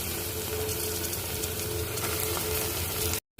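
Half a kilo of washed chicken sizzles in a pan of well-sautéed onions and tomatoes for chicken biryani in a pressure cooker, a steady close frying hiss with no talking, cutting off abruptly at the end.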